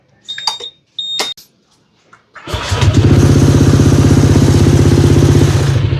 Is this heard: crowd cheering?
no